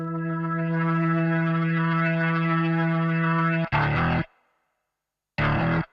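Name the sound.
Hammond organ clone with distortion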